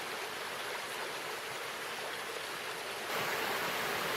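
Rushing water of the Foss River at a trail crossing, a dense steady roar close by that swells louder near the end, with no voices.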